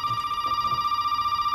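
A telephone in Resident Evil 7 rings with a steady, sustained electronic tone, fairly loud and close, with a faint low rhythmic pulsing underneath and no speech.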